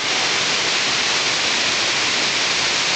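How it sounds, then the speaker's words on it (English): A waterfall pours in a steady, loud, unbroken roar that fills the whole clip, with no voices. "He's gonna go by the waterfall, he's saying."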